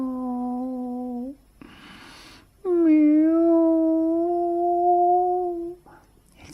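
Two long, drawn-out meows, each lasting over a second with a quiet pause between, loud and close; the sound appears to be a human voice imitating a crying cat.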